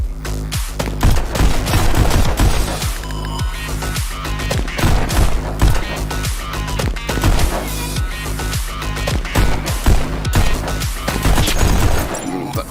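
Rapid gunfire in the VR shooter Pistol Whip, loud sharp shots in dense bursts and fusillades with booming hits across the whole span, while someone shouts excitedly in between.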